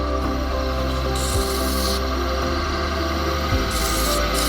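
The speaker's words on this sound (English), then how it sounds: "now we're going to jump into sanding here" Steady, continuous abrasive rubbing of sandpaper against a small wooden honey dipper spinning on a woodturning lathe at about 1500 RPM, with a constant motor hum underneath and no talking.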